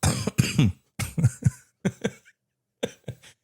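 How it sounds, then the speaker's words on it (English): A man coughs repeatedly in harsh, close bursts, several quick hacking coughs in clusters separated by short pauses. "Your boy's been coughing, dude."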